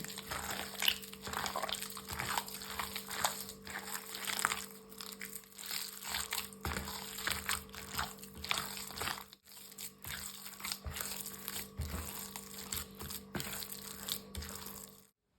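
Minced meat is mixed by hand with two eggs, salt and pepper for homemade cutlets, giving a steady wet squelching and crinkly slapping that runs close and continuous throughout, with no talk.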